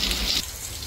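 Rain falling on a wet day, a steady broad hiss of drops that is loud in the first half, then eases to a softer, continuous patter.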